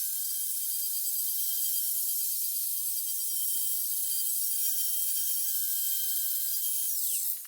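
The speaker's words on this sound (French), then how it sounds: "Je vais commencer avec cette brosse métallique pour enlever juste le plus gros." A rotary wire brush scrubs rust off a cast-iron machine table, giving a steady, high-pitched mechanical whine throughout that winds down sharply at the very end.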